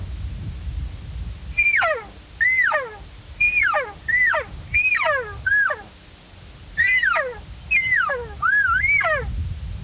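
A voice imitates an elk cow call: about ten short, nasal, descending mews in uneven bursts, close and fairly loud over a low background rumble.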